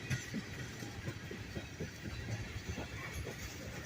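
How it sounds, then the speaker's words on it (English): A Norfolk Southern freight train rolls past on the rails, faint and somewhat distant, with a steady run of wheel clicks and rumble over the track. "he's got a couple of solid cars to end the train"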